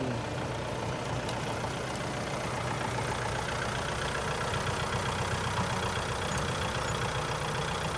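Farm tractor engine running steadily, a constant low rumbling drone heard close and fairly loud for the whole stretch, with no voices.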